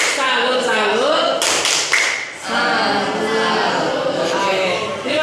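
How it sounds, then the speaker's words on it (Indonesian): Workshop group performs the rhythmic 'tepuk salut' clap, a burst of close, dense hand claps with chanting voices and chatter around it. "silakan berikan tepuk salut"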